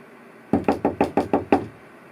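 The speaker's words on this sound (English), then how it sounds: "Oh, someone's knocking on the door." Seven firm knocks on a door in a steady, even rhythm, close and clear, with no talking over them, heard in an X-Men: Mutant Apocalypse SNES game session.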